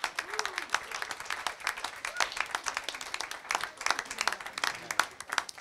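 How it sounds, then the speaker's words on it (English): Audience applause for hackathon winners, dense steady clapping from a crowd in a hall, moderately distant, sustained with slight swells throughout. "A big round of applause for the winners of this year's hackathon."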